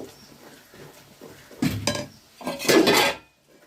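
A spoon scrapes and clanks around a metal pot in two short bursts of stirring lemon pickle, close up, with no talking.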